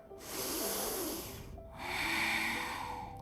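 Two long, audible breaths drawn in through the nose while holding a yoga boat pose (Navasana), close and breathy, with a short pause between them and no talking.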